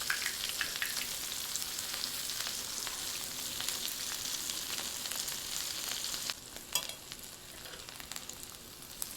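A black bean and chickpea veggie burger patty fries in a pan with a steady, close, loud sizzle that carries on throughout and eases slightly toward the end, with no talking.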